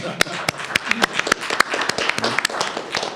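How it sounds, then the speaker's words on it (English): Applause from the audience at the close of a live debate on national security and cyber surveillance, a dense crowd clapping with sharp individual claps standing out over a steady wash, sustained for about three seconds. "Give them another round of applause."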